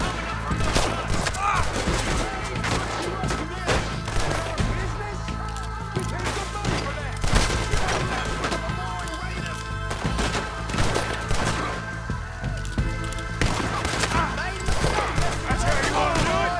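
Dense gunfire in Red Dead Redemption 2 at an American distillation, a continuous loud barrage of overlapping shots and impacts with thuds and crashes, shouted voices mixed in throughout.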